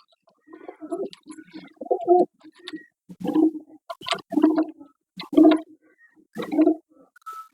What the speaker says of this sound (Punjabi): ਕਾਲੀਆਂ ਅੱਖਾਂ ਦਾ ਕਬੂਤਰ ਹੈ